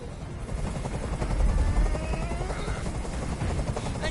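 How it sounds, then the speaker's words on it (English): A helicopter hovers in the video game Detroit: Become Human, its rotor throb and turbine whine loud and steady throughout, with no speech heard. "Tell that helicopter to get out of here."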